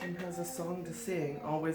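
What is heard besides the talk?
None of the usual background noises is heard.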